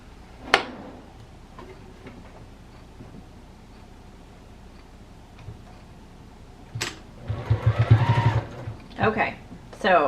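A sewing machine back stitching fabric for a teddy bear, with a brief mechanical burst early on and a louder, rapid run of stitching near the end, mostly quiet handling noise between.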